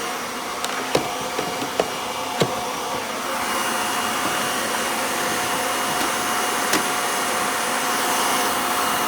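An upright vacuum cleaner runs steadily over carpet and bare floor, a close, continuous whine and hiss with a few light knocks near the start before the motor note rises and holds.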